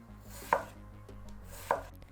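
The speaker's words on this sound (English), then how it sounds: "Once peeled, we'll cut it into 3 to 5 millimeter thick slices." Knife cuts a peeled vegetable into thin slices on a board, two crisp chopping knocks about a second apart over a quiet background.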